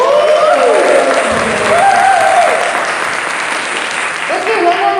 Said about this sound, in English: Let's give one more round of applause for our final 3 contestants